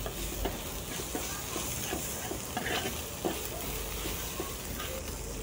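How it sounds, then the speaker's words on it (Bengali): Sliced onions and coriander leaves fry in a pan, a soft continuous sizzle broken by repeated scraping stirs every half second or so, close up with no talking. "ধনেপাতাটা দিয়েও আমি কিছুক্ষণ ভেজে নেব।"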